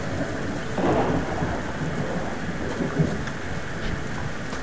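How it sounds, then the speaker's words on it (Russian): A thunderstorm plays in the survival video game Subsistence: steady rain hisses throughout while thunder rumbles at a middling distance, with low swells in the first half and another dull roll a little later. "еще один всплеск молнии."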